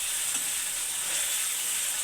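Onion, tomato and turmeric fry in oil in a pan as a Gujarati vegetable dish is cooked, giving a steady, close hiss of sizzling with faint stirring and no talk.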